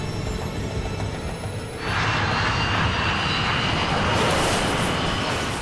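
Airplane accelerating down the runway at Tenerife, a loud steady engine roar that swells partway through and holds, with a broad rushing hiss and no talk.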